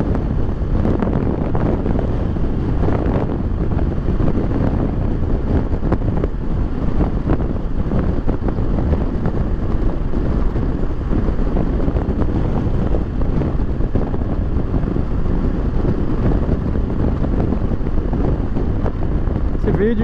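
Strong crosswind buffeting a rider on a 2018 Kawasaki Versys 650 ABS Tourer motorcycle on the open road, a loud, constant roaring rush of wind noise with engine rumble underneath, steady for the whole stretch.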